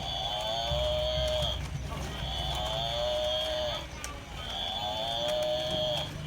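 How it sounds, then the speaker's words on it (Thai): A young water buffalo calf at a temple, Wat Tha Mai, calls out for its mother in three long, loud, close bellowing moos, each rising then falling, with short pauses between. "ลูกควายนะครับ ลูกลูกควายมาตามหาแม่"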